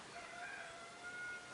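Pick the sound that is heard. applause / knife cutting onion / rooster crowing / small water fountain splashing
rooster crowing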